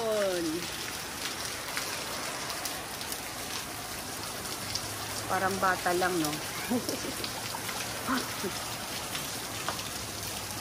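Steady rain falls on surfaces as a dense, even hiss throughout, with a person talking briefly over it.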